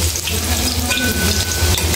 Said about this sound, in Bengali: গরম হয়ে নিয়েছে, এখন আমি পেঁয়াজ কুচি দিয়ে দেব।